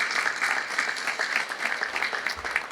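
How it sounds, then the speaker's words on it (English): Audience applause for dairy princesses and queens at a Pennsylvania Dairy Month event: a steady, dense patter of many hands clapping, sustained evenly for the whole stretch without any voices. "a round of applause also for these wonderful princesses and queens"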